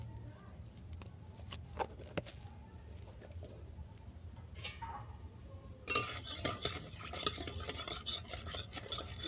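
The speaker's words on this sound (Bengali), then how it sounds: "লবণ হলুদটা তেলের সঙ্গে ভালো করে মিশিয়ে নিলাম।" A utensil stirs salt and turmeric into white oil in a pan, giving soft repeated scrapes and clinks over a faint low sizzle. The sound grows louder and busier toward the end.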